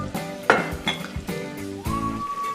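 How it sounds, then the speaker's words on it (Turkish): Meatballs and spaghetti turned together in an oiled frying pan for a meatball and spaghetti recipe, giving a few clinks and knocks of utensil on pan over a light background sizzle, with no talking. "Köftelerimi ve makarnayı aynı tavada şöyle bir çevireceğim."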